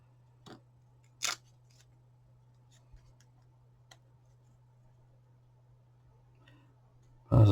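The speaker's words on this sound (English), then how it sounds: "grab a pair of scissors" In a quiet room with a steady low hum, a pair of scissors cuts a pad to shape, giving a few brief, sharp snips spaced apart with light clicks between them.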